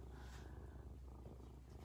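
A cat purrs steadily and close, a soft continuous rumble running through the whole stretch while a kitten nurses nearby, with no voices over it.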